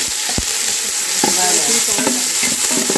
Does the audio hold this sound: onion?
yes